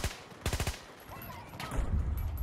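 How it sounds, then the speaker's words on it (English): Gunfire in a Battlefield 2042 match: a rapid burst of several sharp shots early, then scattered distant cracks and rumbling impacts, fairly loud with ambient battle noise behind. "I'm being shot from someone that's all the way up in that building over there."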